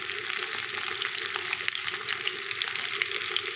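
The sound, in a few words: kebab frying in a pan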